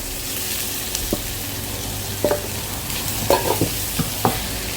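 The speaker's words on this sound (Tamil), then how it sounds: "இந்த இறா நல்லா இதில் வதங்கட்டும்." Cleaned prawns sauté in a pan for a pumpkin and prawn poriyal, an even, close sizzle broken by occasional light taps and scrapes of a stirring spoon, with no one speaking.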